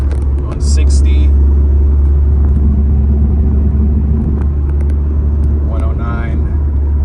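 Steady low engine rumble from a 4th-gen Mazda 3 fitted with a Corksport short ram intake, cruising in sixth gear at about 60 mph, with road noise throughout and someone talking over it.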